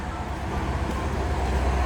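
Steady, broad road noise from heavy car traffic on a busy street in Gorny Altai, a continuous low rumble at a moderate level with no distinct passing vehicle and no talk.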